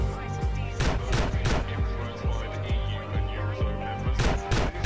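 Gunfire from GTA San Andreas in a zombie apocalypse mode: several sharp shots scattered irregularly across the span, loud and close over a dense game soundscape.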